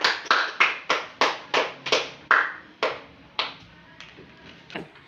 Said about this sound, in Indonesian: tepuk tangan untuk temannya yang sudah menjawab soal yang pertama